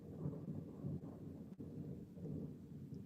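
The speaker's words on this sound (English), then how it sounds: "I know y'all heard that thunder." Thunder rolls as a low, faint rumble that pulses for a few seconds, with light rain in the background and no voices over it.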